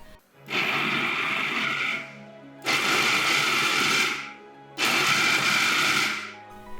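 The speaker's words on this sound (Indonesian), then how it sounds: "Blender hingga halus." A kitchen blender grinds green chili and squid sambal ingredients in three loud, close bursts of whirring motor noise, each about one and a half seconds long, separated by short pauses, with no voices.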